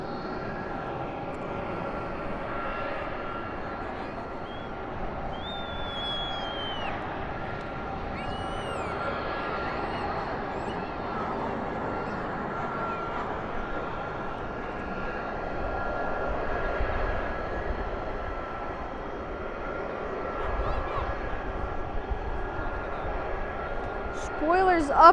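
Jet airliner engines roll and roar steadily at Dallas/Fort Worth International Airport at night, a broad continuous rumble that swells slightly toward the end.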